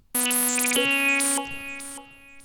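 Sustained synth tones with bright harmonics, holding a steady low note while higher filler notes flicker on top, then fading slightly toward the end.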